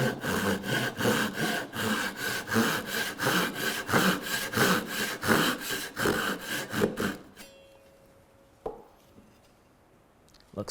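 A hand saw cuts through wood for a marshmallow catapult in steady, rhythmic back-and-forth strokes for about seven seconds. Then the sawing stops, leaving near silence broken by a couple of faint knocks.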